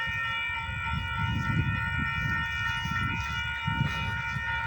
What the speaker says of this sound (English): I hear another train coming on the other way.